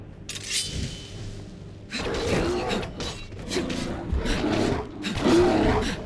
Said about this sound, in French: Voilà l'ours polaire